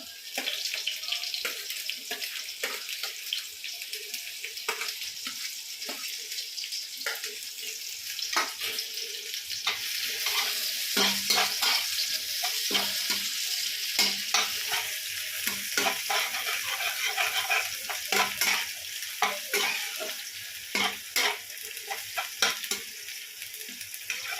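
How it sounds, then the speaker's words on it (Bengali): Garlic and chopped chilli frying in a pan for veg chowmein make a continuous crackling sizzle, with scattered stirring clicks and scrapes, and no talking. "এই দেখো রসুনটা লঙ্কাটা একটুখানি ভাজা ভাজা হয়ে গেছে, লাল লাল হয়ে গেছে।"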